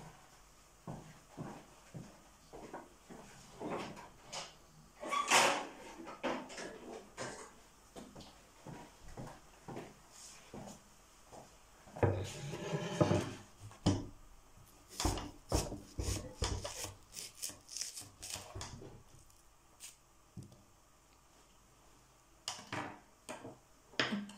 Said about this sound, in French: Je vais prendre ma planche à découper.